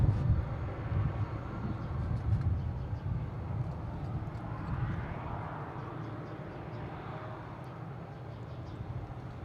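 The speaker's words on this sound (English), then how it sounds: "here is United Airlines from Houston, 737 MAX 9" A United Airlines Boeing 737 MAX 9 at Boston Logan airport, a steady low jet roar that slowly fades as the aircraft moves off, heard from a distance with no talking.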